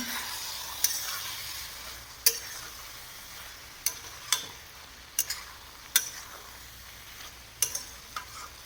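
Spring onion greens mixed with crushed sesame sizzle gently in a pan over a low flame. A soft, even frying hiss runs throughout, broken by sharp spoon taps and scrapes against the pan every second or so.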